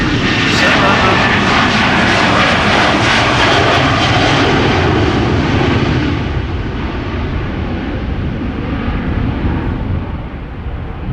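A KLM Boeing 737-700 roars loudly and close by, its jet engines holding a dense, broadband rumble that slowly eases toward the end.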